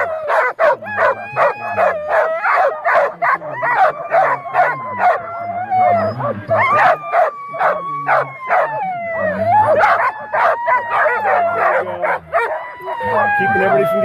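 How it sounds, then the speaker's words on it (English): Sled dogs at the start of a North American open sled dog race festival howl, yip and bark together in a loud, continuous chorus close by, with people talking underneath. "Let's go look at these dogs."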